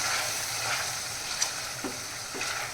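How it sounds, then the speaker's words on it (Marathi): Ground misal masala fries in oil with a bright, continuous hiss, close up. A few soft stirring scrapes rise over it, and no one speaks. "आता हा मसाला आपण ह्याच्यामध्ये छान फ्राय करून घेणार आहोत"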